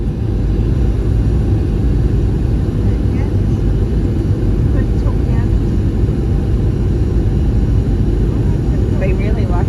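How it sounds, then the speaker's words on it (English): A REX Airlines plane descends on approach and lands at Adelaide Airport, heard from inside as a loud, steady engine and cabin roar that continues without a break. "enjoy the approach and landing into Adelaide Airport"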